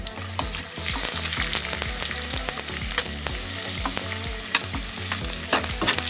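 Spider conch shells fry in a hot pan, a loud, close sizzle joined by rattling clatters and knocks as the hard shells are stirred and tossed, and no voices.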